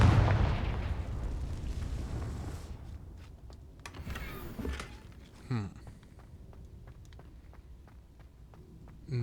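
A Confringo blasting spell in Hogwarts Legacy erupts as a loud, close explosion with a booming rumble that decays over a couple of seconds, followed by scattered thuds, clicks and footsteps in a quieter space.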